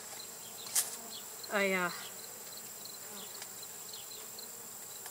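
Honey bees buzz steadily around a hive in a faint, continuous drone. A short vocal sound breaks in once, with a few sharper ticks and clicks nearby.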